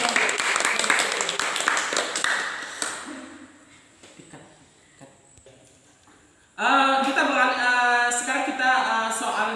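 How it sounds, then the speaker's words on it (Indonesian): A classroom group claps for a student group, a brief burst of clapping at the start that quickly dies into near quiet, followed by a voice speaking. "tepuk tangan untuk kelompok"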